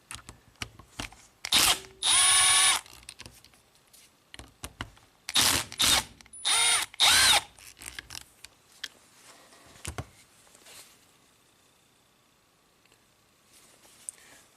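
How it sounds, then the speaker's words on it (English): Power drill with a star bit backing screws out of an engine timing-area plate, several short close whirring bursts separated by pauses and handling clicks. "take these screws off. So let's do that. It's a 5 star bit."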